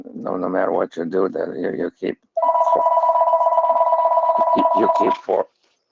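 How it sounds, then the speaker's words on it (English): A telephone rings during a phone call, a steady electronic trill lasting a few seconds that cuts across and briefly overlaps a man's speech, close and loud. "Sorry about that phone call."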